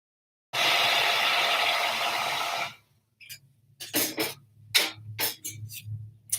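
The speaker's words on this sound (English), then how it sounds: "I can hit it with a blow dryer just to make sure that it's dry really quick" Handheld blow dryer drying a watercolor painting, a steady loud whoosh running for about two seconds before switching off, followed by scattered taps and handling noises.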